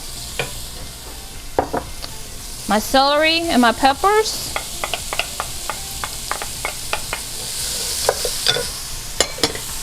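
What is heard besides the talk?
onion, celery and peppers sizzling in pan with toasted paprika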